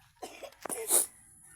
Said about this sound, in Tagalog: Inuubo pa siya, oh. Inuubo ka pa?